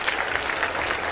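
Brief burst of steady audience clapping at a live stage show after an oriental dance performance, a dense, even patter of many hands without voices.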